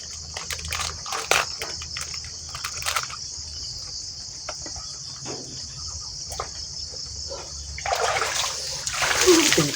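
Water splashes and pours in bursts during an outdoor bath, over a steady background of chirping crickets, with louder sloshing toward the end.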